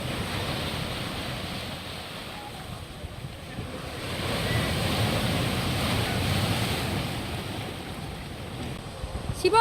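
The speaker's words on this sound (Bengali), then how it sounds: "দেখ পেছনে দেখ ঢেউটা কেমন আসছে" Waves roll and break steadily on Digha beach, the surf swelling louder midway, with wind rushing over the microphone throughout.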